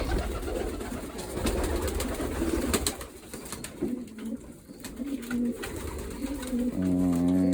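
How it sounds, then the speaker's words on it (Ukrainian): A white Sprinter hen pigeon and the loft birds around her coo in soft rolling calls at close range, with a stronger, clearer coo near the end and handling noise between. "Голубка біла спринтерка."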